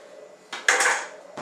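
A knife saws through a large sandwich loaf meant to serve eight, making a short burst of crunchy, scraping cuts close up, with a brief scrape just after.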